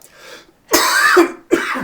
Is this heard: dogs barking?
no